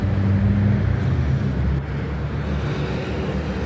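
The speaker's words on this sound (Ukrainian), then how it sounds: "О, ще пожарка там якась поїхала." A fire engine drives past on a city street in Ukraine during a blackout, a loud, steady low engine rumble with traffic noise that fades slightly partway through, with no talking.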